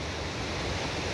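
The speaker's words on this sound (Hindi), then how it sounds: "ये देखिए, मंदाकिनी नदी का बहाव" The Mandakini river flowing through the valley at Kedarnath, a dense, steady rush of water with some wind, loud and continuous throughout.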